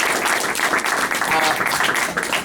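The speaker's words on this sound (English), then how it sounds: "So let's give her a big round of applause." An audience at a Ghostbusters panel at Niagara Falls Comic Con claps in a brisk, continuous round of applause that fills the room close by.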